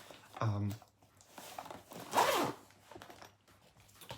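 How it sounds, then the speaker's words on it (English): A zipper is pulled closed during gift wrapping, with two quick, close rasping runs about two seconds apart and a soft voice in the background. "Zip these up"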